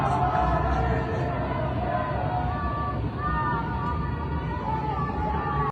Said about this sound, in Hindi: सुने आप, मार गमार खामिनी, मार मार या मार गमार खामिनी, जिसका मतलब है मुर्दाबाद, खमीनी मुर्दाबाद